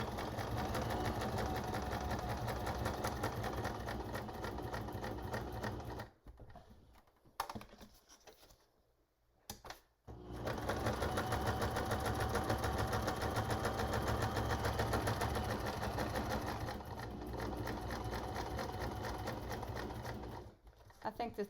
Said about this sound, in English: So I'm just going to stitch around 3 sides on each of the cover and on the back cover, the front cover and the back cover.